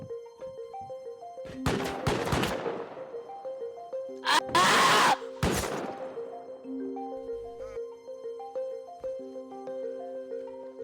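Turrets in the game Rust fire bursts of gunshots, heard as a few loud sharp blasts over a backdrop of tonal in-game music and sounds.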